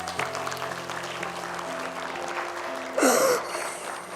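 Applause from a studio audience at an Indonesian children's competition show, a short burst of clapping rising over music and background hubbub, fairly loud for under a second before fading back.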